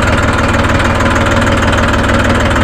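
A Holland tractor engine runs loud and close while gears are shifted, a steady low rumbling chug with rhythmic knocking pulses and no voices.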